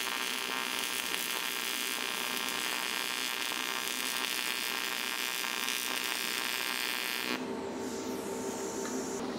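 A TIG welding arc on aluminum pipe, using the arc's cleaning action before the weld pool soaks in, gives a steady, close electric buzz and hiss that holds without a break, then shifts to a softer, duller tone for the last couple of seconds.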